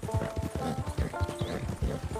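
A horse's hooves clip-clop in a steady walking cadence in Red Dead Redemption 2, close and fairly loud over a faint tonal game backdrop, with no voices.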